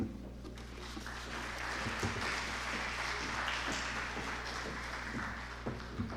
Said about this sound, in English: I thought that applause would be better for Liberia.